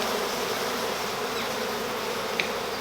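Honeybees swarm around an open hive during an inspection, their dense, steady buzzing loud and continuous throughout, with one brief tick near the end.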